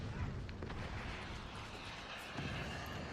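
Shotgun fire and explosions in the Forts real-time strategy game, a dense rumbling barrage of low booms and bursts that keeps going without a break, heard faintly.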